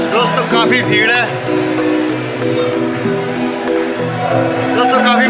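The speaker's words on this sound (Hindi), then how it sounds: "काफी भीड़ है" A dense crowd of devotees at the Khatu Shyam temple fills the space with loud, continuous chanting and overlapping voices, with occasional louder shouts rising above the mass.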